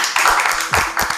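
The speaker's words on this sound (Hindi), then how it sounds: "तालियां उनके लिए।" A talk show audience gives a short burst of clapping, a few separate pulses of hand claps in quick succession over about a second.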